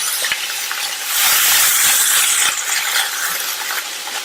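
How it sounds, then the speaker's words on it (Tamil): Potatoes and tomato sauté with salt in a pan over medium heat, a close, crackling sizzle that swells midway, broken by scraping and clinking stirring. "நல்ல மிதமான தீயில வச்சு ஒரு வதக்கி விட்டுருங்க"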